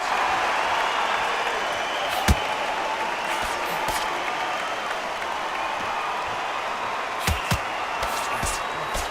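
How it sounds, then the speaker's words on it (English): A boxing arena crowd at a Canelo Alvarez fight keeps up a continuous loud roar and buzz, with a few sharp thuds and claps standing out against the steady wash of noise. "The crowd here cannot wait. They've been buzzing all day long"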